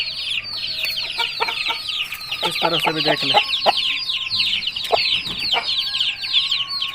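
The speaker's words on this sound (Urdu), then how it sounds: "خوبصورت اچھا اصیل مرغا" An aseel rooster clucks in quick repeated bursts, close and clear, among the chirping of other birds, while someone talks briefly nearby.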